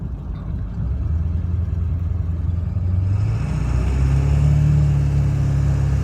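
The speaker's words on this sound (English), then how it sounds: "Sorry I can't drive a little faster, but we're bumper to bumper here on the way to the picture site." A 2000 Ford F250 diesel pickup drives slowly in bumper-to-bumper traffic, giving a steady close engine drone whose pitch rises partway through, with no talking.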